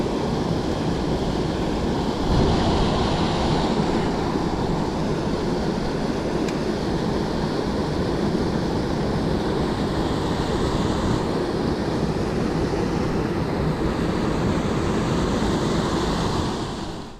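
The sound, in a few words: small waterfalls flowing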